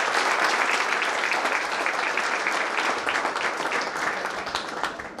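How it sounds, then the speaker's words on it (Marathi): Sustained applause from a large crowd at a college felicitation ceremony, dense and steady clapping that stays loud throughout before easing slightly at the end. "दोघांसाठी पुन्हा खणखणीत टाळ्या झाल्या पाहिजे"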